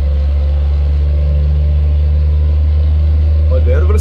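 Volvo FH5 truck engine in a video game, a loud, steady low drone that climbs gradually in revs while someone talks over it throughout.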